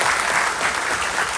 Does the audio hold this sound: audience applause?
yes